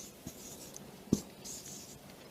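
A marker or chalk drawing a diagram on a board, with a couple of short faint strokes and one sharp tap against quiet room tone.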